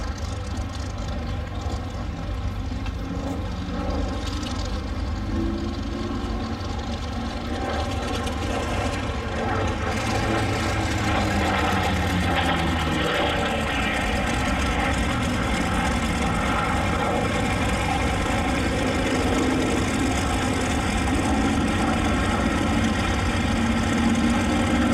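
A Grumman F8F-1 Bearcat warbird's piston engine at the Flying Legends airshow, 2018, holds a continuous heavy drone with slowly shifting tone, steady and fairly close throughout.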